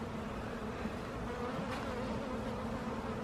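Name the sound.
honey bee buzzing during hive inspection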